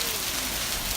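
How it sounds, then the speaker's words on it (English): Big hailstones falling hard onto a garden with young almond trees, a dense, steady hiss of impacts filling the scene from start to finish with no voices. "It is hailing hard right now, and big pieces of hail."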